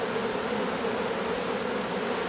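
Honeybees hum in a dense, continuous drone at close range over an opened hive in an apiary, steady and loud throughout with no voices.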